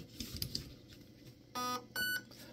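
An electronic trigger unit on a Raven Evolution Furion airsoft gun gives two short, clear programming beeps about half a second apart, close and alone over faint handling noise.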